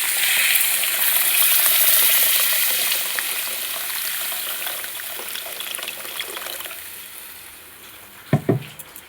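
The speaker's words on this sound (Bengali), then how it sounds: "মশলা ভালো করে কষা হয়ে গেছে, এবারে জল ঢেলে দেবো।" Water poured into a spice paste frying in a pan for a pangas fish curry, giving a steady hiss and sizzle that slowly fades, with a few sharp clatters near the end.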